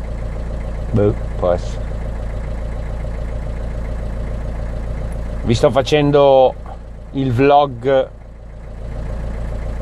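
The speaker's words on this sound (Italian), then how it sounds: "con il motore acceso perché ho finito la bombola, quindi abbiate pazienza, sentirete." A camper van's engine idles with a steady, low, continuous hum. A person talks over it in two short stretches.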